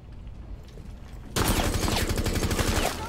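Sustained automatic gunfire from the Rainbow Six Siege video game erupts suddenly after a quieter moment, a loud, dense rattling burst that continues for a couple of seconds.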